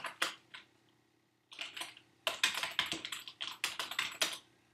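Computer keyboard typing while writing code: a short burst of keystrokes, a pause, then a rapid, close run of clicking keys with no talk.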